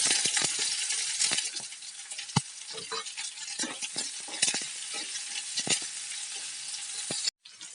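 Mustard seeds splutter in hot oil while onion and curry leaves fry, a dense steady sizzle with sharp pops and crackles scattered throughout, close and loud, ending in a brief break.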